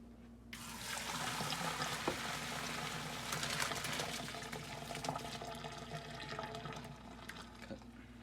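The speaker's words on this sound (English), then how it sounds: "We're now going to strain the potatoes." Boiled potatoes being strained as their cooking water pours from a pot into a sink, a steady rushing splash that runs continuously with small gurgles and spatters throughout.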